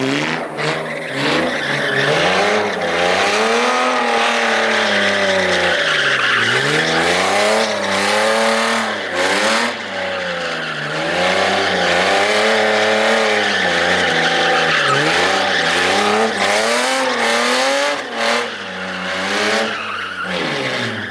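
A BMW E36 project car drifts nearby, its engine revving loudly in rising and falling waves while tires squeal continuously through repeated slides, with no voices over the din.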